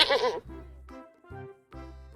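A goat bleats as a storybook sound effect, with three wavering, voice-like bleats in quick succession, clear and close with no other sounds.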